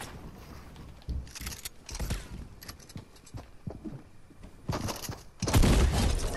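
Bursts of rapid video game gunfire crackle in loud clusters, with a heavy sustained volley near the end, over busy in-game noise.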